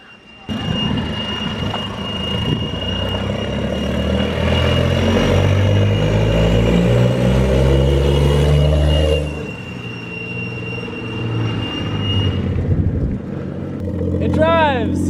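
A Toyota Chaser JZX100, rebuilt after being wrecked, runs and drives, its engine droning loudly and rising in revs before easing off, with a brief tire squeal near the end and voices talking over it.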